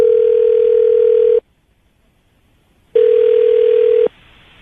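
A telephone line gives two long, loud, steady tones, each about a second and a half, separated by a silent gap, as a call is placed.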